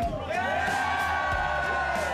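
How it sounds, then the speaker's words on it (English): A Liverpool crowd cheers inside The Cavern club, a loud, dense, continuous wash of whoops and shouting voices that stays close and steady throughout. "Liverpool crowd's great"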